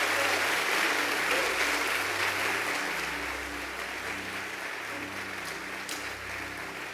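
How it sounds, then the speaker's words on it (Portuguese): An evangelical church congregation at IBREM in Juiz de Fora applauds in sustained, dense clapping that stays loud throughout, easing only slightly toward the end. "Vamos dar mais um aplauso ao Senhor Jesus,"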